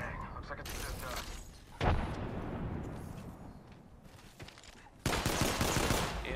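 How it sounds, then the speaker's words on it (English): Bursts of automatic gunfire in the shooter game Apex Legends, loud rapid volleys that come in waves with brief lulls between them, ending in a heavy sustained barrage. "Oh shit, I'm being shot at."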